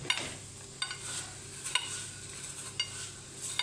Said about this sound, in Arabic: نديروها بالزيت هكذا، ونحطوها تفور الفوره الاولى